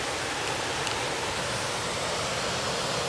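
Kilgore Falls in Maryland pours in a steady, broad, hissing roar that holds constant and fairly loud throughout, with no voices.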